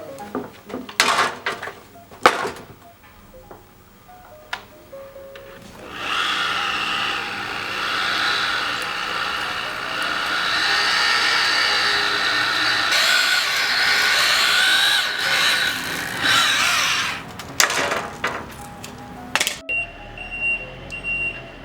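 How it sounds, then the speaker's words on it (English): A power drill bores slowly through steel barn-door hardware, a steady grinding whine lasting over ten seconds, framed by scattered clicks and knocks of handling before and after. "So when you're drilling steel, drill slow with a nice amount of pressure."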